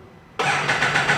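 A Rotax three-cylinder motorcycle engine cranks on the starter and fires abruptly, settling straight into a smooth, steady idle close by.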